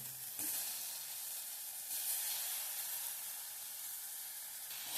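Ripe home-grown tomatoes sautéing in a pan, a steady close sizzle and hiss that swells briefly with stirring, with no voices over it.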